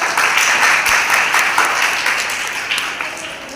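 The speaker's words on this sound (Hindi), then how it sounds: "जोरदार तालियां बजाएं।" Loud, close applause from an audience at a board exam results ceremony for girls' school toppers in Uttar Pradesh, India, a dense burst of clapping that slowly thins and fades toward the end.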